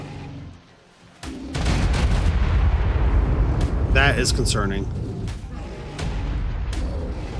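Loud, booming explosions from the game ARK: Survival Evolved with the Primal Fear mod rumble continuously in the background, heavy and low, while someone talks over them.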